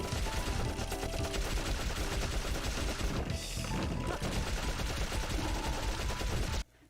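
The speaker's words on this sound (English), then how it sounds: "my first instinct was swap to Osmond and shoot him" Sustained, dense gunfire from a firefight in the Dark Cloud video game, loud and continuous with overlapping rapid shots and bursts, cutting off abruptly near the end.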